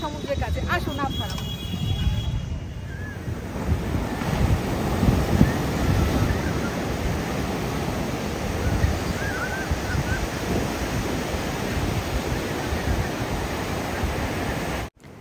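Sea waves breaking on the beach at Puri in the morning, a loud continuous roar of surf with wind buffeting the microphone throughout, steady and close.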